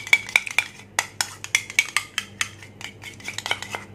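Curd being whisked in a bowl for a hot milk cake, a spoon tapping and scraping against the dish in a steady run of quick, close clinks with no talking.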